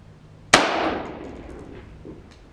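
A Tula ammo rifle bullet strikes a steel target at 500 yards with one sharp metallic clang that rings and fades over a couple of seconds, heard alone without talk.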